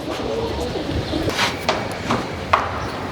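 Pigeons kept at home while molting coo softly in a close, quiet setting, a few low murmuring calls with several sharp brief knocks or flaps scattered through.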